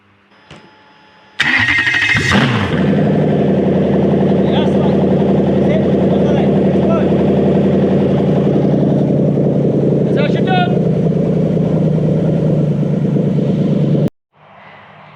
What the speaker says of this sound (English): And I'll start the engine.